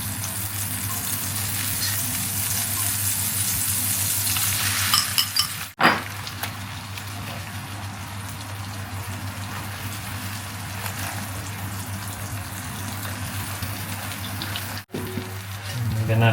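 Bread with egg and butter frying in a pan gives a steady, moderate sizzle over a low constant hum, with a couple of faint clinks partway through and a brief bump near the end.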